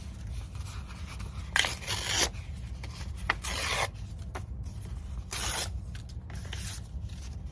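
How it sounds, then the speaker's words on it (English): Book pages painted in Valentine's Day colours being torn apart by hand, several sharp ripping bursts of varying length with short quiet gaps between them, close and clear with no talking. "My next step will be to do some tearing"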